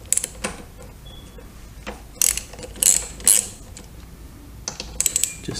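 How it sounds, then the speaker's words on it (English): Ratchet with a 10 mm socket on a long extension loosening the front gas tank bolts of a 2005 Yamaha FJR1300, heard as sparse, close clicking pawl bursts with quiet gaps between them. "We're going to take these two bolts out here, which hold the front of the gas tank, and we are using a 10 millimeter socket with a long extension."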